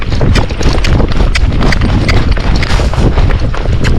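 A Tennessee Walking Horse canters with rapid, loud, close hoofbeats thudding in a continuous rolling rhythm, heard alone without talk.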